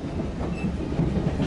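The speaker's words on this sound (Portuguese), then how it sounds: "Arnaldo, diretamente do trem, procedente do Peru, Lima, destino São Paulo," A passenger train traveling through Bolivia from Santa Cruz rolls steadily on rails, heard from aboard as a continuous rumbling clatter with faint rhythmic clickety-clack.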